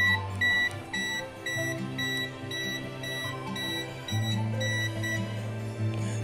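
The BMS beeper on a malfunctioning DIY 100Ah LiFePO4 battery pack sounds a repeated, piercing electronic alarm beep in a steady pattern, fairly loud and close, with no talk.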